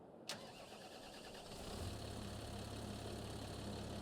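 A Welter tractor engine cranks and catches in a farming simulator during a sugar beet harvest, a sharp start transient followed by a steady, fairly loud idle rumble that continues to the end.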